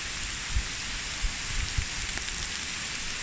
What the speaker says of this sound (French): la pluie elle commence à